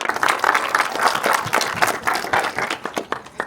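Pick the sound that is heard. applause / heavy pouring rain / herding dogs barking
applause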